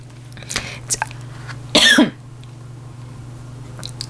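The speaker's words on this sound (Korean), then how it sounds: "왜 말씀을 끝내려고 하면 이렇게 기침이 나는지 모르겠어요." One sharp, loud cough stands out in the middle, with a few softer throat sounds before and after over a low steady hum.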